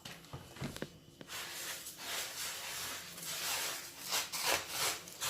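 Couscous grains and a little oil stirred together by hand in a bowl, a steady soft rasping, hissing rub close up that swells and fades in uneven strokes, with a few sharper scrapes at the start and no talk.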